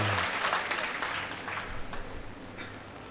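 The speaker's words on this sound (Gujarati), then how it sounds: "તાળી એક સાથે પાડો" A crowd claps together at a public ceremony for a water conservation campaign, giving a dense, steady wash of applause that holds at an even level for about three seconds.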